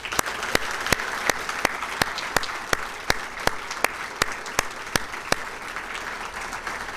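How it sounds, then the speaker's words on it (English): An indoor crowd at a fire department awards banquet claps steadily, with a few sharp, louder claps standing out now and then from the wash of applause. "If we get everybody a round of applause."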